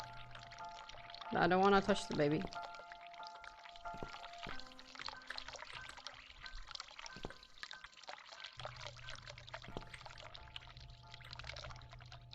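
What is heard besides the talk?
running water in the video game The Cat Lady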